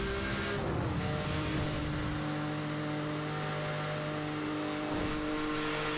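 A car engine in Need for Speed Hot Pursuit Remastered revs hard through a tunnel, loud and sustained. The pitch climbs and holds steady with a faint tire squeal near the start, and no one speaks.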